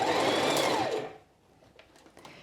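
A sewing machine stitching a quilted jacket runs loud and close for about a second, then stops, leaving faint handling sounds.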